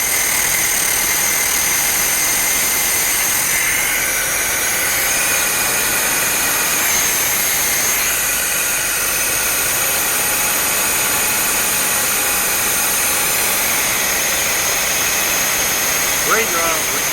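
A 1982 Datsun 720 4x4 pickup engine with a vacuum leak idles steadily and loudly for the whole stretch, a constant rumbling drone with slight wavering and a faint click near the end.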